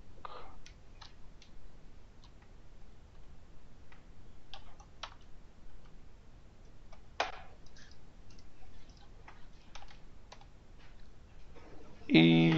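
Keyboard keys clicking in short scattered bursts as a branch name is typed on a computer, fairly faint, with a louder clatter near the end.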